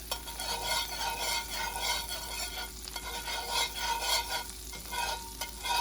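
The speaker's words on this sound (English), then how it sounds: "So I'm going to go ahead and melt down this butter." Butter melting in a pan for beef enchiladas gives a steady, close frying hiss with a soft crackle running through it, and no voices.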